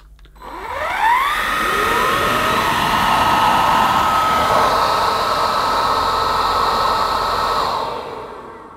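An AEG FX9 cordless vacuum cleaner with a rotating brush nozzle switches on, its motor whining up in pitch, then running loud and steady up close before cutting off.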